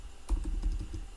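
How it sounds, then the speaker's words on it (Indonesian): Fingers typing on a computer keyboard, a brief run of quick, light key taps over a low background hum. "Kita ketikkan saja di sini"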